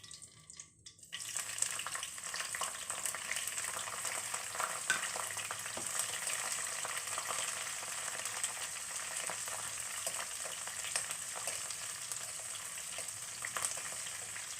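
Green chillies frying in hot oil with cumin and fennel seeds, a dense, steady hiss and crackle that starts abruptly after a brief quiet moment and holds evenly throughout.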